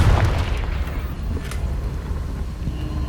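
A Confringo fire spell bursts in Hogwarts Legacy gameplay: a single loud, deep boom at the start that rolls off into a rumbling, wind-like tail with no talk.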